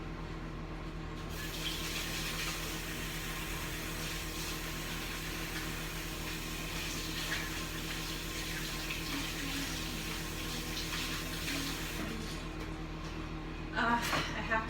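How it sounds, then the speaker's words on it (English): A kitchen tap runs steadily while hands are washed during the cooking of steamed pork chops with vegetables, giving a continuous, moderately loud rush of water that carries on alone for the whole stretch. "I have to go wash my hands after touching that."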